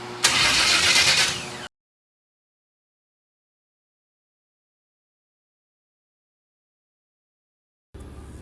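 A car engine turning over on the crank in a $5000 budget project build with the battery sitting on the back bed, a loud burst of cranking for under two seconds, then silence before a faint return.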